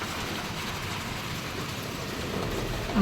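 Steady rain hiss with a low rumbling undertone, continuous and fairly loud throughout, no voices.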